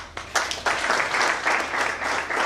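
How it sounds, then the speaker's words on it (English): Workshop participants in Musanze applaud a fellow participant, a dense burst of clapping from a small room that starts abruptly and continues steadily throughout. "Let's clap for her."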